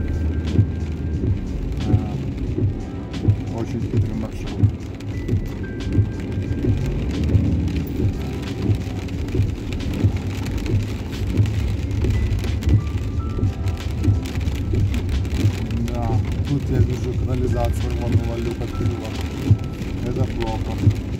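Heavy downpour in Jerusalem drums steadily on the roof and windows of a vehicle, a dense continuous patter with a low rumbling undertone throughout.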